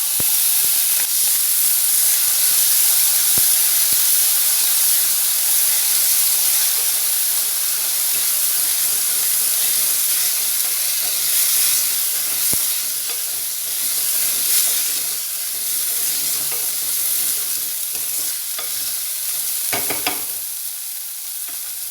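Washed moong dal tipped into a hot pan with green chillies for a banana stem stir-fry, giving a steady loud sizzle and hiss of frying and steam, with stirring scrapes throughout and no talking.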